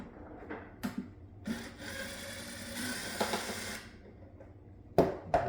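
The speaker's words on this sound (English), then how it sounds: "So let's go ahead and remove these screws." Screws being removed from the reverb spring tank of a Moog Grandmother synthesizer: close, intermittent scraping and rasping bursts, a longer sustained grinding stretch in the middle, then a couple of sharp clicks near the end, with no talking.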